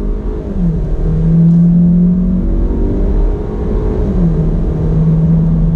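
A 2019 Hyundai Elantra GT N Line engine drones loudly and steadily up close, its tone rising as it accelerates, then settling before climbing again.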